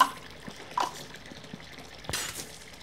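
Water splashes and trickles as a mouth is rinsed after tooth brushing, a few soft drips and one louder swish near the end, close and quiet against a still background.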